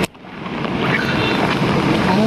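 A flooded, overflowing river rushes beneath a bridge in Valsad, giving a continuous broad roar of water close by and loud throughout, with no clear voices over it.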